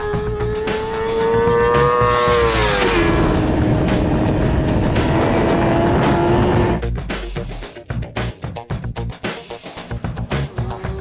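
A 2013 MV Agusta F4 superbike rides past with a loud engine note that rises, drops as it shifts, then fades into choppy wind and road noise, with no talking.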